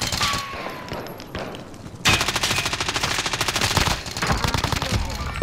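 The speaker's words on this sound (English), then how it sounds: "Under fire here." Dense automatic gunfire in a video game, rapid bursts rattling continuously and growing louder and busier partway through, with no talk over it.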